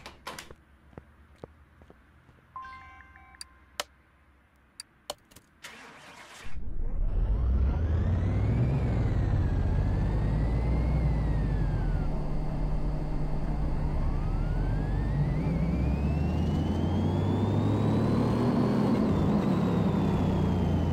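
A Mad Max car in Car Mechanic Simulator 2018 starts with a few clicks and knocks, then its engine roars to life and holds a loud, steady drone with rising and falling revs.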